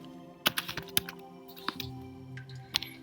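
Short runs of clicky keystrokes on a computer keyboard while Python code is written, irregular taps with brief pauses, close and fairly quiet with no talking.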